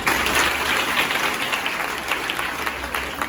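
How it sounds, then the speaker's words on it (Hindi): A crowd of students at a government school session on police and defence careers gives a classmate a burst of thick, continuous applause, loud and even throughout. "वेरी गुड, इनके लिए तालियां"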